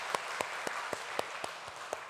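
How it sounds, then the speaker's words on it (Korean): Church congregation clapping together in a slow, steady rhythm, the claps evenly spaced and fairly faint over a soft room background, with no talking. "다시 한번 박수하겠습니다."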